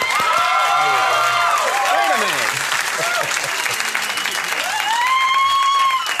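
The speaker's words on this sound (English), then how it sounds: "Bill, I was going to add that applause later." Studio audience applause on a late-night TV talk show, a dense, steady wash of clapping lasting the whole stretch, with voices and laughter rising over it.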